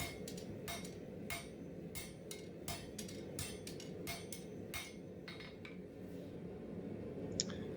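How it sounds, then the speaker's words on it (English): Sharp metallic hammer strikes on hot rebar over an anvil ring out in a steady, repeated rhythm, close and clear, with no voices. "Just heating it up, hammering it out over the anvil to straighten it."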